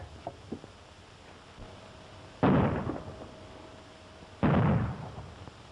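Gunfire in a 1935 western shootout: two loud, close shots a couple of seconds apart, each with a short echoing tail, over a quiet background with no talk.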